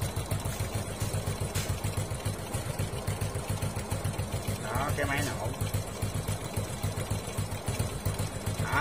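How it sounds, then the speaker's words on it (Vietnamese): The engine of a Honda Wave Thai 110 motorcycle idles nearby in a steady, rhythmic low chug with a slight mechanical tick. A brief higher noise sits on top of it about halfway through. "Đây cái máy nổ đây."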